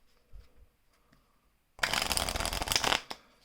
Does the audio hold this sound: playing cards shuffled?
yes